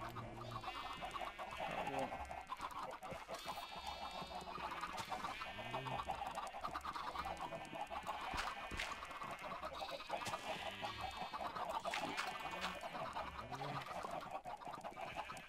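Chickens in the video game Minecraft cluck in repeated short bursts over a steady game background, fairly faint, with no talking.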